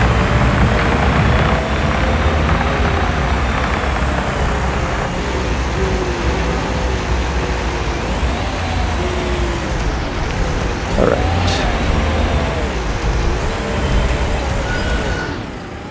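Continuous road traffic in Construction Simulator, with a non-stop line of cars rounding a corner: a loud, steady engine drone with passing vehicles rising and falling.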